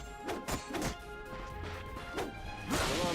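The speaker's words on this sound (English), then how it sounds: "Look at him smashing crates." Ratchet smashing crates in the game Ratchet & Clank, a quick run of swishing weapon swings and loud crunching breaks, several impacts in a row, close and punchy over a game music bed.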